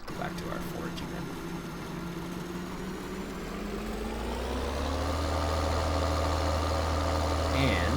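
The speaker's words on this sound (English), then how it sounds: "Quick little way of starting your tractor if you have manual ignition on, apparently." A tractor in Farming Simulator 2013 starts up with manual ignition and settles into a steady low engine idle that builds slightly and then holds constant, with faint game background sounds.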